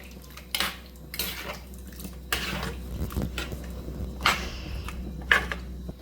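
Mango pieces and chillies are mixed into a Trivandrum-style fish curry in a pot, with several distinct clinks and scrapes of a spoon against metal over a quiet low background, spaced irregularly through the stretch.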